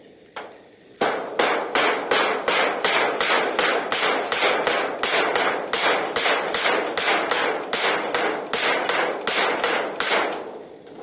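Hammer driving nails through a board down toward concrete, a fast, regular series of about thirty sharp, loud strikes close by, briefly paused near the start and then continuing evenly without talk.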